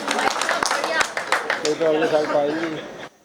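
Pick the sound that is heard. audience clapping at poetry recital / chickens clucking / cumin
audience clapping at poetry recital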